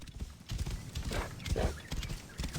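Horse hooves clip-clop in the video game Assassin's Creed Origins, a few quick, uneven hoof strikes over a faint background, with soft noise between the steps.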